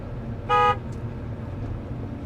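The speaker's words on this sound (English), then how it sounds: "maybe you can honk to him, so then we'll pass him" A single short car horn toot sounds over steady road and engine noise.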